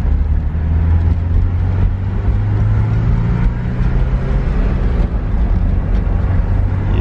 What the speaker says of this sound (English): there are the cooling fans. All right, those work.